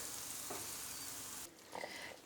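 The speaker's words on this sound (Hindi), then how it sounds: "अब हम सूजी को भुनेंगे" Semolina roasting in a pan for turmeric halwa, a faint, soft sizzle with a couple of brief stirring scrapes.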